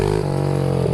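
A 140cc mini bike engine held at steady revs in second gear, a loud close buzzing drone with a slight dip in pitch partway through and a rise at the end, with no talk.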